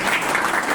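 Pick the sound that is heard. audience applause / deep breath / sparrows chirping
audience applause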